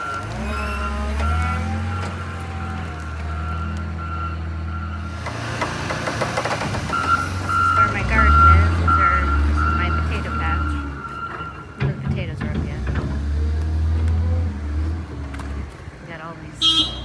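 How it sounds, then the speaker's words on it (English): Heavy equipment, a loader or skid steer moving dirt, gives steady repeated reversing beeps over a low rumbling engine, with a person talking over much of it. "I'm gonna hop in the loader, move some dirt around, and probably hop in the skid steer"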